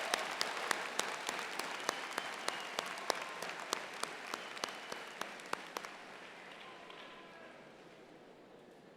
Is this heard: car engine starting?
no